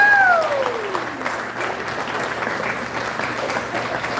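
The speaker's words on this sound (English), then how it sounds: "Let's give them a round of applause." A crowd at a sports awards banquet gives sustained applause, even and moderately loud throughout, with a brief whistle-like tone sliding down at the very start.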